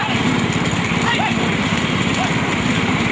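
Rapid bullock hoofbeats pound steadily beneath a loud, continuous rumble of racing carts at a bullock cart race in Sivaganga district, with excited voices and crowd noise mixed over the galloping.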